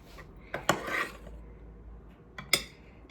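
Brown rice being spooned onto a plate, with a few soft scraping clinks of a utensil against the dish at a near, quiet level.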